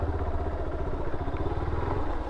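A Kawasaki Z400 motorcycle ridden in the rain gives off a low, steady, rhythmic engine throb at modest volume, with no other sounds over it.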